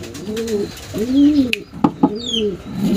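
A racing pigeon, just back from a 226 km race, coos loudly and close, several rolling low coos with a couple of sharp clicks or flaps in between.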